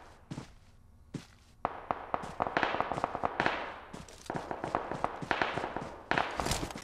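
Rapid cracking gunshots from mobile battle-royale game PUBG Mobile, sharp bursts in quick irregular volleys, some louder and nearer, firing almost continuously without pause.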